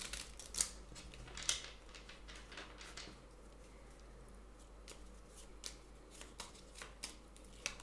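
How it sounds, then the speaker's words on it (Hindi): Tarot cards get shuffled and drawn with soft, faint flicks and slides, scattered taps of cards at close range in a quiet room. "3 टैरो कार्ड्स लेते हैं।"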